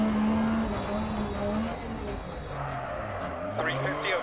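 A rally car engine in the racing video game Dirt Rally drones and shifts pitch as it revs and drops through gears, with a voice talking over it throughout.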